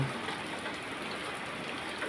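Heavy rain falls outside a house during a storm, a dense steady hiss of drops that is even and constant throughout, with no voices.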